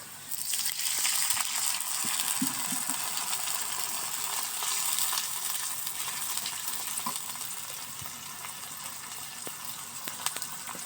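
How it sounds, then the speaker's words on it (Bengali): Onions frying in a pan for a potato and eggplant curry with dried fish give a steady, close sizzling hiss after a little water is added, continuous with faint stirring clicks. "এখন সামান্য একটু পানি দিয়ে দিব"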